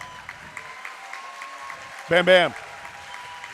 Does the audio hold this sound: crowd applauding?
yes